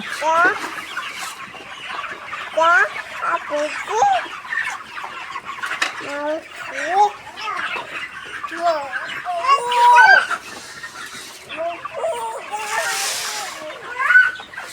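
A flock of backyard chickens clucks busily in the morning as feed is set out. The dense, overlapping clucks and squawks are close and lively, and a person talks over them.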